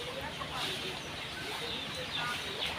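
Chickens on a poultry farm make a dense, continuous murmur of clucks and scattered higher calls, a steady flock chorus at moderate distance with no clear talking.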